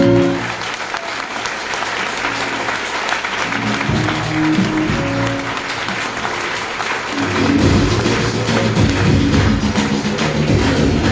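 Audience applause at a motivational talk in Jabalpur, sustained clapping throughout, swelling louder and denser in the second half over a low rumble and some background voices.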